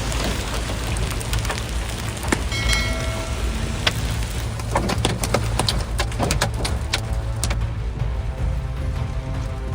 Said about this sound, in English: Hail on the highway turns a windshield into a countdown.